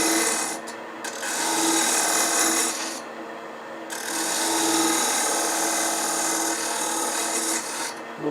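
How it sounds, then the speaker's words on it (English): A hand tool chamfers the face of a wooden keepsake box with loud, close, continuous rasping strokes, broken only by brief pauses between passes. "chamfer the face of this so it goes inward just a little bit"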